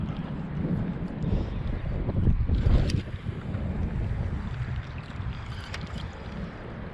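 Strong wind buffets the microphone outdoors while fishing, a steady roaring rumble that swells and gusts throughout with no voices over it.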